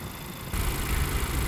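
A naturally aspirated 2.4-liter engine in a 2014 Honda Accord idles, a steady close rumble that grows louder about halfway through and holds even, with no voices.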